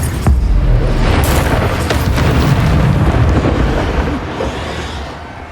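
An Incendio fire spell blasts in the Hogwarts Legacy video game, a loud booming burst of flame that roars and rumbles, then slowly fades.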